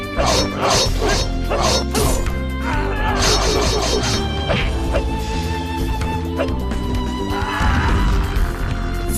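Growling, snarling barks from an enraged werewolf-like alpha dog boss in the game Epic Conquest, mixed with crashing impacts and dense game music, loud and busy throughout.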